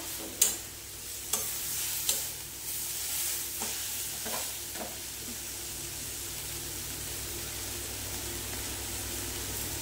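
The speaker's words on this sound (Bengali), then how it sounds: "এই দিয়ে ভালো করে কষে নেব।" Fish head, tail and potatoes fry in a pan with a steady, faint sizzle, broken by several sharp scrapes and knocks of a spoon stirring them, spaced irregularly over the first few seconds.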